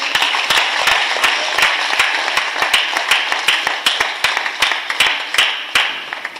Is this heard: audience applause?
yes